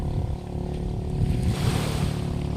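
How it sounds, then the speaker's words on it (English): A small local boat passes on the water off Lobo, Batangas, its low engine rumble steady and fairly close, mixed with surf and wind noise and growing slightly stronger in the second half. "Here comes a boat with a"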